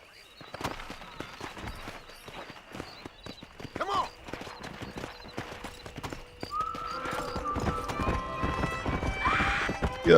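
Horse riding in Red Dead Redemption on Xbox Series, with quick, loud hoofbeats at a gallop and a whinny partway through, while someone talks over it.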